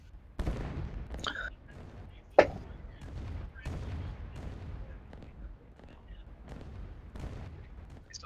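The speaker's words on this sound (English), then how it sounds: "They finally have artillery backup though." Faint artillery fire in the Rise of Nations strategy game, a series of muffled booming shots at a steady irregular pace, one sharper crack among them, heard at a distance with a little background chatter.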